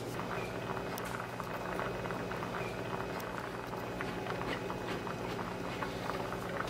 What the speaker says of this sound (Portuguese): Começou a ferver, gente.